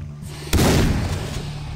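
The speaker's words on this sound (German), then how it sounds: "Die Schrotflinte ist aus der Nähe ganz schön übel." A single loud shotgun blast in Far Cry 3 booms suddenly after a brief quiet, then decays into a lingering rumble.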